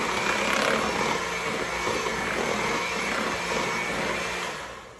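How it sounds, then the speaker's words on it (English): A food processor whirs steadily as it blends carrot soufflé batter, a loud continuous motor drone with a coarse churning texture that winds down at the end. "do it in the food processor."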